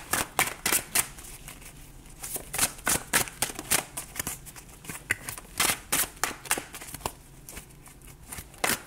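Tarot cards are shuffled for a reading in rapid, close riffling bursts of crisp slapping and flicking that repeat irregularly throughout.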